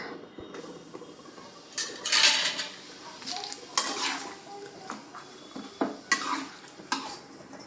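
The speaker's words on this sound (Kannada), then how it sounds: "ಸ್ವಲ್ಪ ಹಪ್ಪಳ ಫ್ರೈ ಮಾಡೀನಿ" Papad frying in hot oil gives a steady low crackle with several sharp clinking and scraping bursts from utensils against the pan, moderately close, with no talking.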